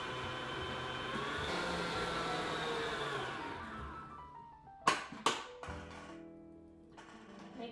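An electric mixer whirs while combining peanut butter and butter in a bowl, a steady motor hum that winds down after a few seconds, followed by a couple of sharp clunks of the paddle.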